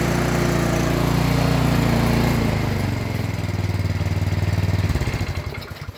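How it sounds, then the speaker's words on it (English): A Yard Machines snow blower engine, recently fixed after a carburetor fault that caused surging, runs loud and close with a steady buzzing drone that shifts in pitch and turns slightly choppy near the end. "Short time later, Yard Machines all up and running."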